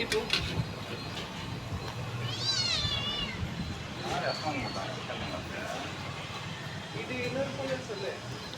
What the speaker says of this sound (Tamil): இது இன்னொரு பூனை